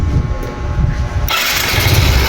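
A 2010 Suzuki Smash 115 motorcycle with a starting fault is push started, its engine catching and running loud and close with a steady rough rumble that picks up brightness partway through.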